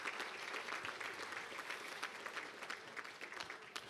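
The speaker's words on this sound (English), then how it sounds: "One more round of applause" Faint, distant applause from an audience at an honor society and hall of fame ceremony, a sustained, even patter of many hands clapping throughout.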